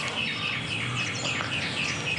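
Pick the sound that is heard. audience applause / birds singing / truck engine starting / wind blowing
birds singing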